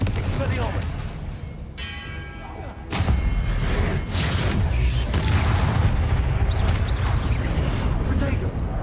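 Booming magical spell blasts from the Confringo and Expelliarmus spells in the Hogwarts Legacy video game, a dense, loud run of thudding bursts that intensifies after a quieter start, with a voice over the game audio.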